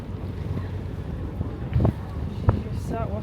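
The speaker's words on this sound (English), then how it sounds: "We're on a boat ride, everybody, in York." A City Cruisers tour boat glides along the River Ouse in York, its low engine and water noise forming a steady bed under wind buffeting, with a few short louder knocks and people talking over it.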